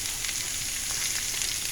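Mustard seeds fry in hot oil in a pan, making a soft, steady crackling sizzle with faint stirring and no speech.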